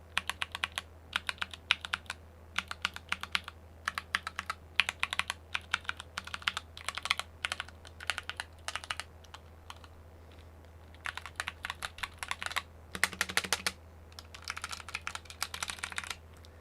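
Mechanical keyboard fitted with Everglide Oreo tactile switches being typed on close up, bursts of quick crisp clacks separated by short pauses, with a steady low hum underneath.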